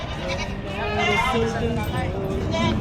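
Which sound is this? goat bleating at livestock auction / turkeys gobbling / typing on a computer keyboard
goat bleating at livestock auction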